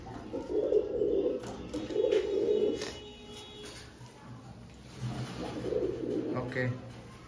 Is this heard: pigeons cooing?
yes